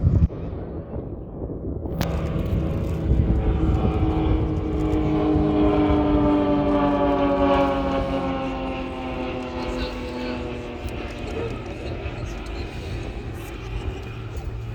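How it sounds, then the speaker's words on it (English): An Extra 300 NG aerobatic aircraft performs at an airshow display, its propeller drone rising and falling in pitch as it passes, steady and fairly loud over crowd and wind noise, with a commentator talking over it. "Tom and Michael displaying for you today in the Extra NG aircraft, the Extra 300 NG"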